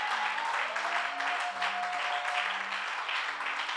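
Church congregation applauding together, a steady wash of clapping with faint sustained organ or keyboard tones underneath.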